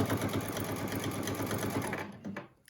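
A sewing machine runs steadily while stitching over elastic on a fabric surgical mask, its needle clattering quickly and evenly up close before it slows and stops near the end.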